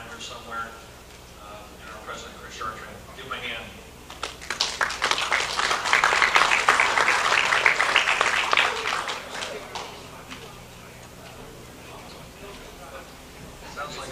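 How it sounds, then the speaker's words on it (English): A crowd at a bowling tournament bursts into applause that swells in the middle, then tapers off, with voices talking before and after. "Sounds like an applause at Red Sox Stadium"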